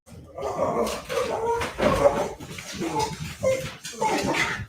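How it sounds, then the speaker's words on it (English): Dogs whimpering and growling at close range in a quiet indoor room, a series of short whiny bursts and low grumbles repeating through the moment. "As my dogs lose it."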